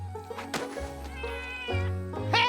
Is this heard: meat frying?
no